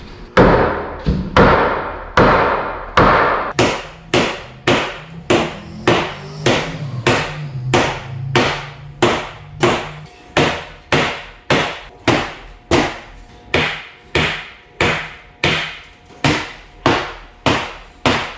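A hammer strikes hard and repeatedly, a few uneven blows at first, then a steady rhythm of sharp, ringing impacts, close and loud with no talking.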